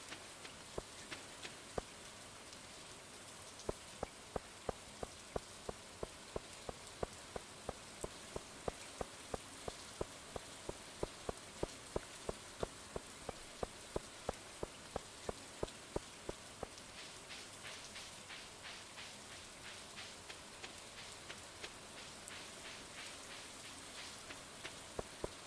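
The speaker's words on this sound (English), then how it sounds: "It is raining after all, and it is spring." Steady rain falls in the video game Stardew Valley Expanded during spring, a continuous dense patter with sharper droplet ticks throughout, fairly quiet and heard alone without talk.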